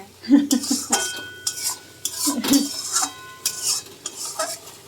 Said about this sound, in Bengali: একটু জল আছে এটাকে একটুখানি নেড়ে নেবো